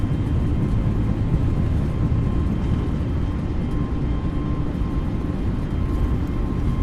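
Twin A320neo engines at takeoff thrust in Microsoft Flight Simulator 2020, a steady loud low roar with a faint whine, sustained without break.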